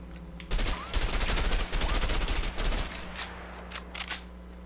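Rapid automatic gunfire from a burst-fire rifle in the video game A Way Out rings out in loud, close, tightly spaced volleys, then breaks into shorter bursts and scattered single shots that fade toward the end.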